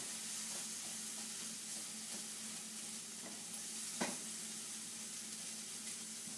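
Shrimp for shrimp alfredo pushed around a hot pan, a soft continuous sizzle with faint scraping and a couple of light clinks from the utensil, no talking.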